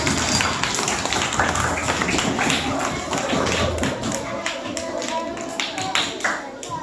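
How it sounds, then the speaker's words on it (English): A school audience at a Christmas celebration claps their hands, a loud, thick spread of many hands with some thumps and shuffling, gradually thinning toward the end. "So clap your hands for them."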